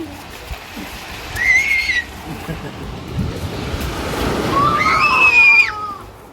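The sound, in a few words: water waves washing in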